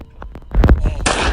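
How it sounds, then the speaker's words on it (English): A gunshot from the Granny Chapter Two horror video game: a loud, sharp blast that rings out with a bright, noisy tail after some quieter in-game thumps and footsteps. "I know she heard that gunshot."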